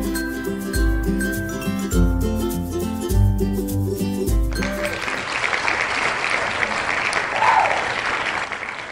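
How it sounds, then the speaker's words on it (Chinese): After a bright cheerful jingle with a steady beat, the canned applause sound effect from the Wheel of Names online spinner tool bursts in halfway through as sustained clapping and cheering that carries to the end. "像刚刚所听到的掌声"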